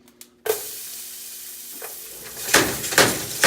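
Potatoes drop into hot bacon grease in a pan with a sudden burst of sizzling that carries on as a steady hiss, swelling with a few louder spatters near the end.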